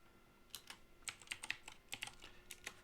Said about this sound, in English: I'm going to type in ORC stock